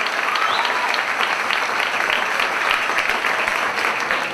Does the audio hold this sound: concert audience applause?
yes